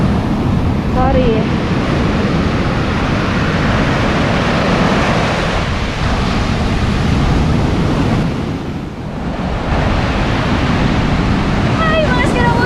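Ocean surf rolls onto a beach at a resort in Cabangan, Zambales, as a continuous loud wash of breaking waves mixed with wind buffeting the microphone, with faint voices occasionally audible.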